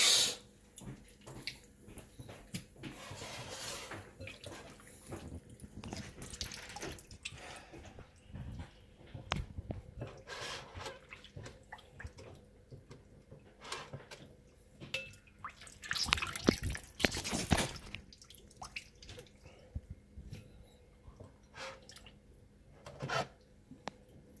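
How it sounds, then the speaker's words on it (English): Vinegar dripping and trickling as it is squeezed out of raw kilaw fish by hand, quiet irregular splatters and drips in bursts, louder around the middle, faint and close with no talking. "I'm just gonna squeeze that vinegar out."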